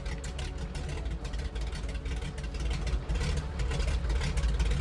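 Left engine of a light aircraft idling in a steady, rumbling drone that builds slightly louder toward the end, with no talking over it.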